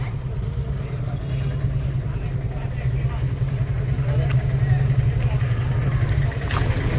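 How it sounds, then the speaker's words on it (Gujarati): A boat engine rumbles steadily and close as the boat comes in to the shore, a continuous low drone that swells slightly midway, with people talking over it. "આ બોટ આવી છે કાંઠે"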